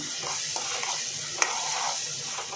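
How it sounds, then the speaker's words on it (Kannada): Onion frying with a spoonful of ginger garlic paste in a pan for soya kurma: a steady, close sizzle with soft stirring scrapes and one sharp clink of the utensil partway through, with no voices. "ಈಗ ನಾನು ಇದಕ್ಕೆ 1 ಸ್ಪೂನ್ ಆಗೋಷ್ಟು ಶುಂಠಿ ಬೆಳ್ಳುಳ್ಳಿ ಪೇಸ್ಟ್ ಹಾಕ್ತಾಯಿದ್ದೀನಿ"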